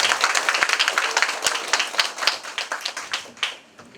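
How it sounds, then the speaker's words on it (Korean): Clapping at a residents' general meeting, a crowd applauding with distinct individual claps that thin out and fade toward the end, leaving near quiet. "힘찬 박수로 같이 시작하겠습니다."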